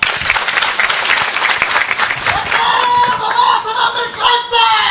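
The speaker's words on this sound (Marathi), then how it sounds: "त्या बाबासाहेबांसाठी एकदा टाळ्या वाजवा." A crowd at a village rally in Rajur claps for Babasaheb, dense steady applause that is loud and close and lasts the whole stretch, with scattered voices mixed in.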